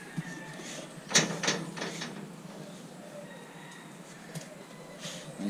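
A door knocks and thuds shut nearby, followed by a few softer rattles and bumps, with quiet room tone between.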